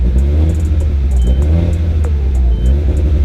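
A Mitsubishi Evo X with newly installed fuel injectors idles steadily up close, its low, even engine rumble holding without revving and with faint ticking above it.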